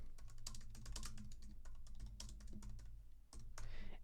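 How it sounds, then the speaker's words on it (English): Fast typing on a Mac computer keyboard, a quick irregular run of close, crisp key clicks over a faint steady hum, with no talk. "And then we're going to type this in."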